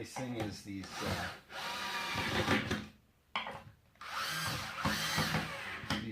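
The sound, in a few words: power drill driving screws into base cabinet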